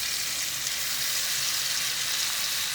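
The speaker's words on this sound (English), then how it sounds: "I'm going to go ahead and flip my steak" A ribeye steak flipped in a hot pan gives off a loud, steady sizzling hiss that stays constant and close throughout.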